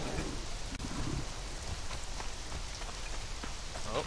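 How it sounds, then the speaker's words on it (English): Steady rain falls in the survival video game Conan Exiles, a dense continuous patter of drops on surfaces with a soft distant rumble underneath, moderately quiet and without speech. "It's cold rain!"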